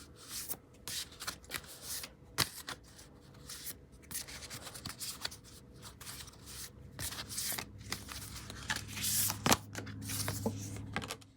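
Tarot cards are shuffled and rubbed together in repeated soft riffling bursts, close and fairly quiet, with short pauses between handfuls and a scratchy papery texture.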